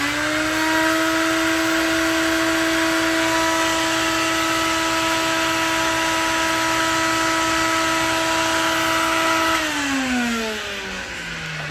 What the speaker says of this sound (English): Vacuum's a little far away, so here we go.